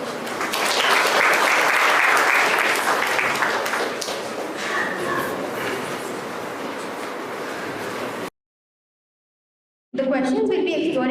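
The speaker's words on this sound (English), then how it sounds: "A big round of applause for us." Audience applause at a tech talk, a loud dense roar of clapping that gradually eases, cuts to silence, then a voice speaks after it.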